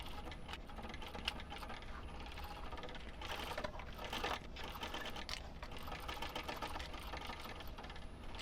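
A sewing machine stitches around the panels of a saltwater pouch with a continuous busy mechanical chatter of rapid ticking and rattling that stays steady throughout at moderate volume.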